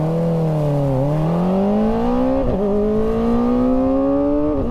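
A Kawasaki ZX-4RR motorcycle with a Graves exhaust revs up steadily and loudly under a sound chamber, its engine note climbing in pitch with a brief dip, close and continuous with no talking.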